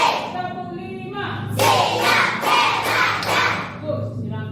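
A class of pupils clapping in a counted pattern, a burst of several quick sharp claps from many hands in a room, with a voice and talk before and after.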